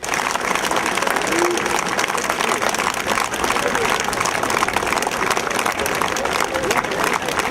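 Relatives, friends and colleagues applaud more than twenty SBU officers returning to Ivano-Frankivsk, a continuous outdoor round of clapping with crowd murmur and voices talking throughout.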